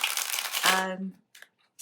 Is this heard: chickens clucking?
no